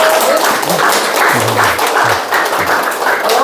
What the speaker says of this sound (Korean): 이사장님께 박수 한번 다시 부탁드릴게요